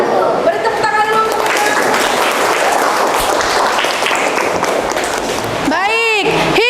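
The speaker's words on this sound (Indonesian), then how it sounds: "Beri tepuk tangan dulu." Indonesian students in a classroom clap loudly and continuously after a speech is read. The dense clapping holds for several seconds and then fades as a voice breaks in with rising and falling speech near the end.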